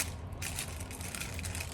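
Salted Ritz crackers are crushed and smashed up in a container, a dense, continuous crunching and crackling, close and steady for a moment with no talking.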